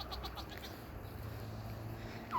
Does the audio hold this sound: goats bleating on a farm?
yes